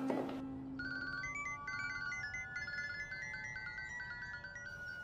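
A telephone ringtone plays a repeating electronic melody at moderate volume over a low background hum, after a brief burst of noise at the start.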